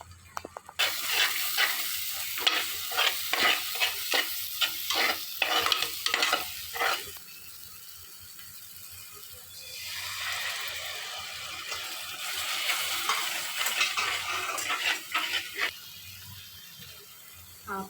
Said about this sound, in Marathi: तेल सुटत चाललंय, म्हणजे छान फ्राय झालेत आपले मसाले.